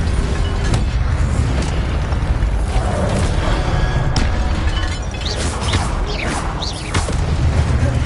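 A Levioso spell cast in the Hogwarts Legacy video game, layered magical whooshes, booms and creaking mechanisms over dense game noise, with sweeping swishes toward the end.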